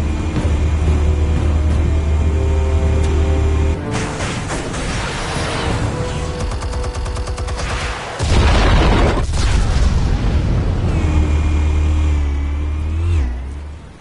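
Explosives detonating in a Batman video game: heavy booming blasts and rumbling bursts over a continuous low game drone, loud and close, with no talk.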